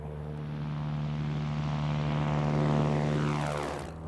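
A propeller airplane departing from a runway at Mojave, its engine droning steadily and swelling louder before fading as it passes, with no talking.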